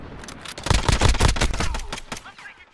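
Rapid automatic gunfire in Call of Duty Modern Warfare, a 2v2 match, rattling out as a loud, fast burst of close shots that trails off into a few scattered pops.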